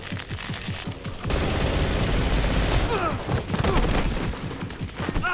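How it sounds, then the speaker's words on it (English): Gunfire in the stealth action game Metal Gear Solid Delta: Snake Eater: a dense, sustained burst of rapid shots with heavy low rumble, beginning after a second of lighter clatter and tailing off near the end. "Le cambiaron el sonido de las armas"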